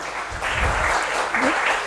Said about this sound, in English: And a big round of applause to all of them.